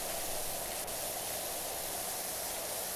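A pressure washer sprays in PowerWash Simulator 2 as a steady, unbroken hiss of water jet that holds level throughout with no talk over it.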